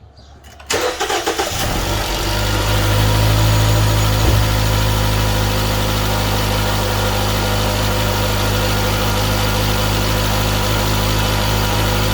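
A 2017 Jeep Cherokee engine cranks briefly, catches, and settles into a loud, steady idle rumble that continues close by.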